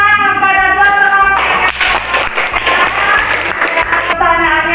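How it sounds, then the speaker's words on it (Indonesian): Classmates in a classroom lesson give a short burst of clapping for two students, a dense patter lasting a few seconds between stretches of voice. "kita beri tepuk tangan pada dua teman"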